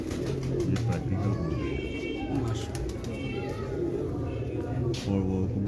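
Pigeons coo repeatedly on a Lahore rooftop, soft low throaty calls recurring under a fairly loud, continuous background with occasional sharper sounds, and someone talks over them.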